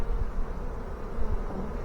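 A honey bee swarm being installed into a hive drones in a dense, constant buzz, close and steady, with no voices.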